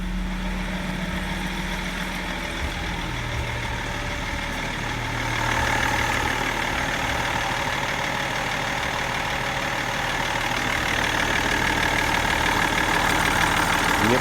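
A BMW E39 with a 3.0 turbodiesel M57D30 engine running steadily with a gruff, knocking diesel clatter, then revving higher midway and holding a louder, raised hum to the end.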